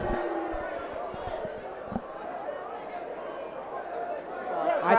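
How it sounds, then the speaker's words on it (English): Crowd booing at the Fight For It XVII bout between Nyzaiah King and Sebastian Quevedo: a steady, dense wash of crowd noise under overlapping voices, swelling slightly toward the end. "Crowd is booing."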